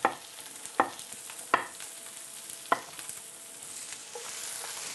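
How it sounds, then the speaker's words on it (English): Wild mushrooms, including bay bolete, fry in a little oil in a pan, with a light sizzle under several sharp utensil scrapes and clacks spaced about a second apart. "So a little bit of oil, because I'm going to start adding the mushrooms now."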